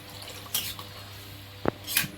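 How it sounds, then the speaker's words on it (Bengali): Water goes into a pan of fried potatoes: a soft background hiss broken by a couple of short splashes and a sharp burst of sizzle near the end. "আলুটা ভেজে নিয়ে এবার জল দিয়ে দিলাম"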